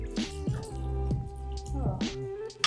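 Water and garlic go into a cooking pot with asparagus, cherry tomatoes and red chilies, making a few close, wet splashing drips and squishes in quick succession.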